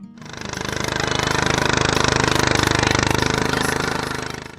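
Kohler engine of a Ford LGT 165 small garden tractor running close by, a loud, deep, steady rhythmic chugging that swells in and holds evenly throughout.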